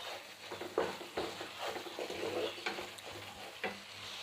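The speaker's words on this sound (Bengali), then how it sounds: "আবার একটু পানি দিয়ে দিলাম, একটু ভালোভাবে কষাবেন।" Spice masala with a splash of water stir-fried in a pan for restaurant-style chicken curry, a close sizzle broken by repeated scraping and clattering spoon strokes, no voices.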